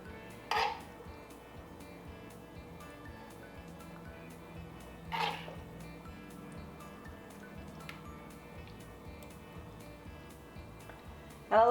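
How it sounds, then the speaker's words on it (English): A spoon clinks against a dish a few times while bell peppers are stuffed for a no-oil plant-based recipe, short sharp metallic taps spaced seconds apart over quiet kitchen background. "So we're going to just start stuffing our peppers."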